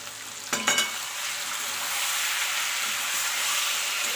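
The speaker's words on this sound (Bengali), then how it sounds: "এটাকে আমি ভালো করে কষাবো।" Chicken masala for a Bengali duck bungalow curry sizzles and fries steadily in a pan, with a couple of quick scraping stirs near the start and then a continuous close frying hiss.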